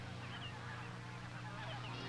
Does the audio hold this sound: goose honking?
yes